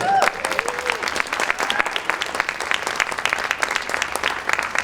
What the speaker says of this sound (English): Let's get a round of applause for Mr.